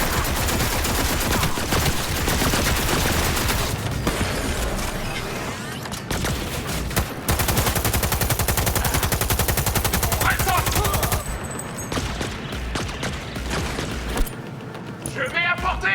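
Rapid bursts of automatic gunfire from a Cyberpunk 2077 firefight at a gas station pound loud and dense, nearly continuous with brief gaps, while voices shout over the shooting.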